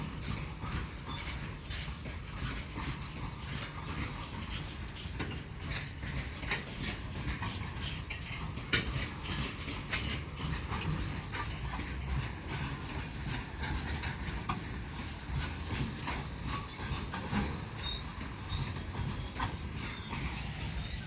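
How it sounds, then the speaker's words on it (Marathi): A long goods train rolling past with continuous mechanical clatter and rumble of wheels on rails, steady and fairly close throughout, no voices. "ही मालगाडी गेली"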